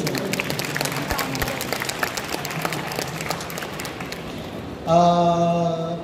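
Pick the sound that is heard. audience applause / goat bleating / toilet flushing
audience applause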